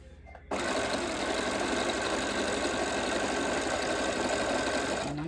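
A sewing machine runs a steady straight stitch while joggers are being sewn, a continuous fast mechanical whir that starts abruptly and holds at an even, loud level throughout with no pauses.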